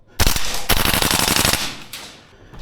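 Tokyo Marui AK gas blowback airsoft rifle firing in close-quarters play: a loud rapid burst of sharp, clattering shots, a pause, then more quick cracks fading into quieter follow-up pops.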